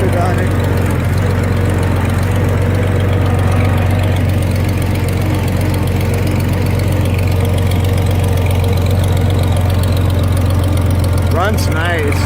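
An IHC Farmall 460 tractor engine idles loud and steady with a low throbbing knock throughout, recorded up close, with a brief squeak near the end.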